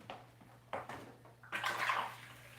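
Water squeegeed out of a microgreen tray with a flat piece of plastic, a soft, close trickling and sloshing that swells into a brief rushing pour near the end.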